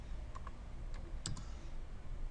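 A few light, scattered key clicks on a computer keyboard as a short value is typed, faint and close over a steady background hum.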